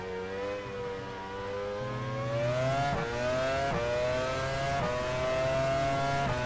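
A Formula One car engine from the 1999 Canadian Grand Prix race in the F1 Challenge 99-02 video game revs and drones steadily, its pitch climbing then dropping at each gear change, loud and close with no talk.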